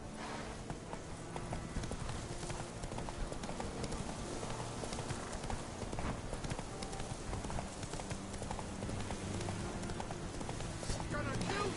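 Hooves of a horse galloping in the Witcher 3 video game, a rapid, steady clip-clop rhythm that runs throughout under a dense, continuous layer of game ambience.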